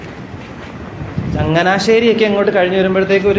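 A Kayamkulam–Ernakulam MEMU express train runs on rails in Kerala near Changanassery, with a steady rumble and rail noise underneath someone talking close by.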